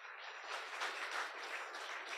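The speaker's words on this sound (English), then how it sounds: "let's have a round of applause for Taya." Audience applause during a dark-skies talk, a soft, even patter of clapping heard from a distance at low level, lasting a couple of seconds.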